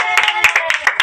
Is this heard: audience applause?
yes